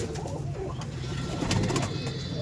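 Black pigeons at a loft coo in soft, repeated low calls, close by and steady, with light background rustle and no talk.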